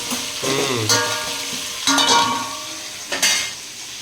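Peanuts, chillies, mustard seeds and cumin fry in oil for a tempering, a close, steady sizzle broken by a few louder bursts of crackle and stirring, with no one talking.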